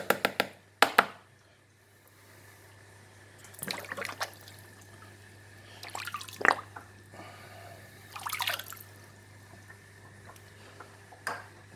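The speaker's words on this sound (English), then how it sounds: "So now we stir the water a little bit," Water holding dissolved calcium, magnesium, sodium and potassium chlorides and bicarbonates is stirred, giving soft intermittent splashes and drips in scattered bursts over a faint steady hum, close and quiet.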